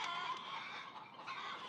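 Orpington chickens, hens along with a rooster, cluck in a steady, quiet murmur of overlapping farmyard noise.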